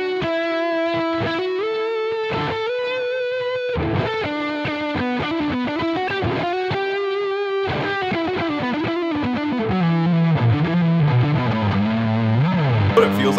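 Strat-style electric guitar fitted with Tim Henson signature pickups, played through a high-gain distorted tone with effects, fast melodic lines and bends sustaining steadily and loudly, the guitar heard alone without talk.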